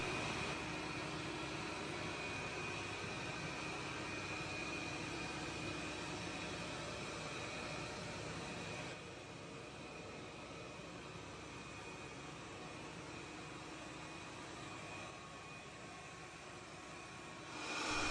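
Roidmi EVA robot vacuum with self-empty station running its cleaning pattern at sped-up pace, a continuous airy whir with a thin high whine, steady and moderately quiet, softening slightly midway.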